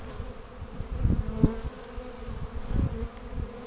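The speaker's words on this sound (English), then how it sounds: "All these bees buttoned up." Honeybees buzz steadily at a beehive during an inspection, a close, continuous drone with a few louder passes of bees near the microphone.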